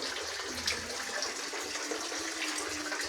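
Continuous water flowing into a tilapia fish pond, a steady broadband rush and splash at moderate level, with no break over the short stretch.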